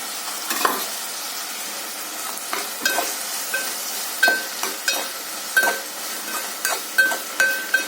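Vegetable bhaji stirred and fried in oil in a pan at home, with a steady close sizzle broken by repeated scraping and clinking strokes of the spoon against the pan, alone with no talk.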